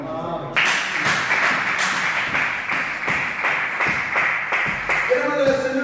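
A church congregation at a New Year's Eve service claps together in a steady rhythmic beat, loud and close, blending into applause, with voices and music faintly underneath.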